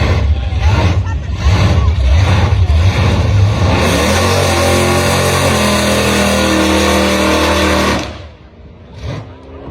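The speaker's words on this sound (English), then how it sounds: "We also had some drag racing fire-ups." A drag racing car's engine fires up and revs hard, loud and rough with pulsing throttle blips, then holds a sustained high-rpm roar before cutting off sharply, with a voice talking over the outdoor noise.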